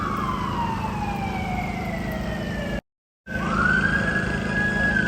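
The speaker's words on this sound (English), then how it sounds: "Oh, listen, sirens are already starting up this early." A wailing ambulance siren sweeps down in pitch, cuts out briefly, then rises again, heard over steady low traffic rumble near Riverside Park in New York City in the morning.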